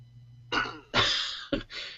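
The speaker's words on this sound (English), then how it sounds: "and then you can clear your throat" A phone app's throat-clearing sound effect plays close and clear, three or four rough, gravelly bursts in quick succession.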